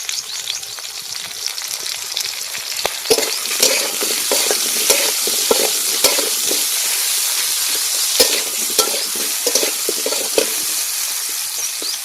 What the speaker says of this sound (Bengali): সামান্য নুন আর একটু হলুদ দিয়ে এই আলু আর পটলটাকে ভেজে নেব।